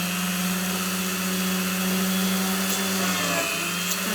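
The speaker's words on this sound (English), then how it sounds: "It's a bit of a crazy drill." A power drill used in handmade silver earring jewelry making runs steadily and loudly throughout, a continuous whirring motor hum with a brief pitch dip near the end.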